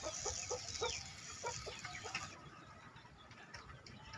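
Chickens cluck in short, soft bursts over a steady background hum, the calls fading after a couple of seconds.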